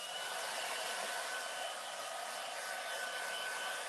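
A hair dryer blows steadily and loudly throughout, drying glaze on a painted lamp base, a continuous close-up airy whoosh with a faint motor whine and no pauses.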